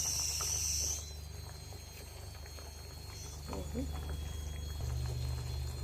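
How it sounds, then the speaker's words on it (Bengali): Simmering fish curry with potatoes bubbling and liquid pouring as fish and lentil dumplings go into the pot, a close gurgle and splash over a steady background hum. "আলু দেওয়া বড়িগুলো, মাছ আর বড়িটা দিয়ে দেওয়া হলো।"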